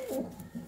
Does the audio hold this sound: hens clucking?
no